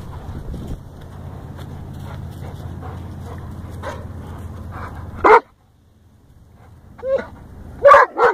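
Dogs bark outdoors in a field, a few short sharp barks and whimpers arriving after a steady breezy rumble, with a couple of louder nearby yelps near the end.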